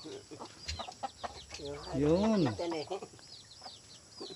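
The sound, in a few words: Rhode Island Red chickens clucking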